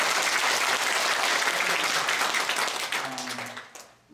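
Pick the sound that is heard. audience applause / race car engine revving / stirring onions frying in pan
audience applause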